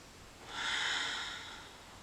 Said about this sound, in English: Long exhale.